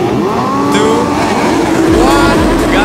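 A racing motorcycle accelerates hard on the Mandalika circuit. The engine is very loud and near, with rising revs, quick gear-shift drops and heavy wind rush, and other bikes are audible around it.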